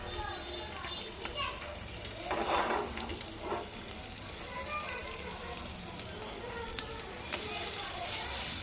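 Steady sizzling and spitting of pomfret frying in a hot pan on low gas, close by, with voices talking over it.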